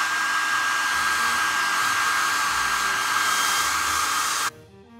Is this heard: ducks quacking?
no